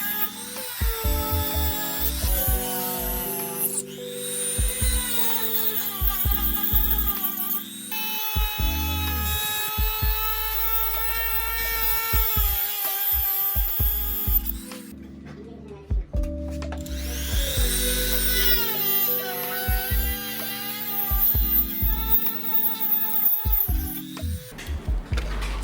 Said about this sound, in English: Since the module can't be pulled out with pliers, there's one solution: cutting machine.